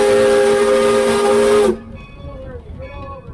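Steam locomotive whistle on the Northern Nevada Railway, a loud sustained chord-like blast with hissing steam that cuts off abruptly, leaving quieter engine rumble and faint hiss behind.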